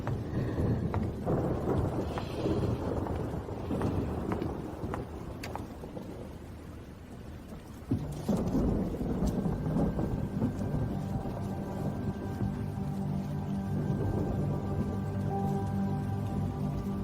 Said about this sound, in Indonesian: Hujan badai malam ini.